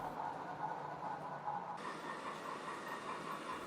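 Rebuilt Bulleid Merchant Navy Pacific steam locomotive 35028 Clan Line rolls past hauling a brake van, giving a faint, steady rumble and rail hiss from some distance.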